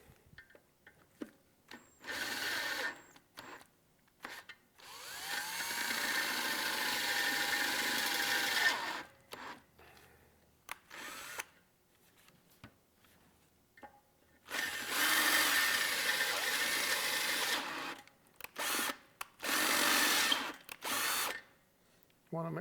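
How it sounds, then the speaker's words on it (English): A power drill bores out holes so they can be re-tapped for inserts, running in two long sustained bursts of steady whine with shorter start-stop pulses around them, close and loud. "slowly drill these out so you can re-tap it"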